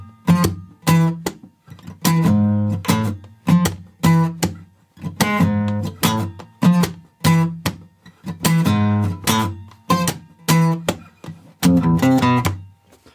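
A repeating guitar riff from a song, heard as short, choppy plucked notes and chord stabs in a bouncy, syncopated rhythm, close and clear with no talking.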